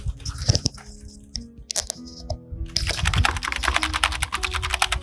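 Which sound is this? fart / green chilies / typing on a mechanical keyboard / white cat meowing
typing on a mechanical keyboard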